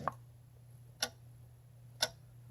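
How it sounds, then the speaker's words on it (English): A white noise machine plays an old clock's ticking: three crisp, evenly spaced ticks about a second apart, faint and close over a low steady hum. "Old clock."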